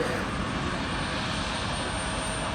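An airplane roars at RDU airport as flights take off and land in the rain, a loud, steady engine rush that fills the whole stretch without letting up.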